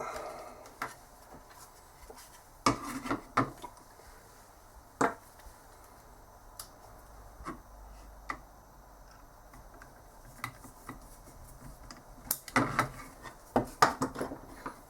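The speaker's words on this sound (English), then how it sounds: "then we screw this onto here" Screwdriver fitting a part onto a Palette 2 external filament buffer, a scattered run of small clicks and plastic taps, several sharper knocks in quick clusters, fairly close and quiet.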